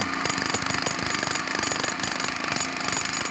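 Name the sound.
construction work noise, power tools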